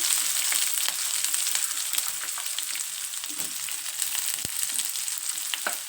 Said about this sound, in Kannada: ಬೆಳ್ಳುಳ್ಳಿ ಹಾಕೊತೀನಿ ಕರಿಬೇವು ಉಳ್ಳಾಗಡ್ಡೆ ಹಾಕೊತೀನಿ